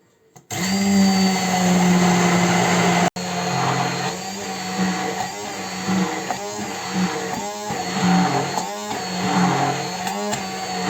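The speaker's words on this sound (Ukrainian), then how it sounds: "тепер погружаємо наш блендер" An immersion blender whirs steadily and loudly, its motor pitch wavering as it churns through a sauce for a spread, with a brief cut partway through.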